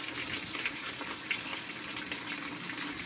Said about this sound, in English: I gotta start my washer. Get the water rolling before I add some clothes to it